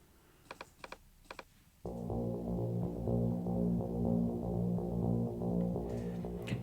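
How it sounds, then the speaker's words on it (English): A few sharp clicks sound before a deep synth bass, layered with a reverbed copy of itself, enters and throbs steadily with a thick, sustained low tone in a progressive house track. "I've layered the main bass there with the same thing again, but just reverbed"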